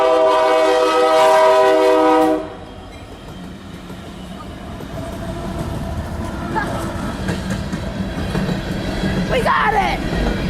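A CSX Produce Express freight train at Deschler junction in snowy weather sounds a loud, sustained multi-tone horn for about two seconds, then its wheels and cars rumble past steadily and grow louder.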